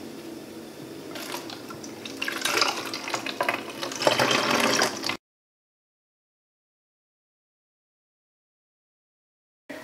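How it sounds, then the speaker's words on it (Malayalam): Hot water poured into a bowl holding a spoonful of baking soda while making homemade mouthwash gives a steady, close splashing pour lasting about five seconds before cutting to silence. "ഒരല്പം തിളപ്പ് ചാറിയ വെള്ളം ഈ ബോളിലേക്ക് ഒഴിക്കാം"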